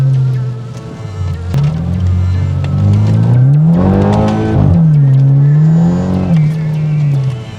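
BMW M4 exhaust on a wet, rainy road, revving and accelerating loudly from inside the car, the engine note rising and falling through several gear pulls with a brief surge in the middle.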